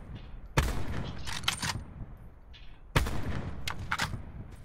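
Gunfire in the battle-royale mode Blackout of Call of Duty, with two loud, sharp shot bursts about two seconds apart, each followed by trailing echoes and softer crackling shots, no talk.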